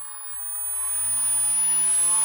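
A small motor on an indoor scale model aircraft, run by an electronic timer, winds up gradually along a ramp, its faint whine rising steadily in pitch and volume over a few seconds with no voices.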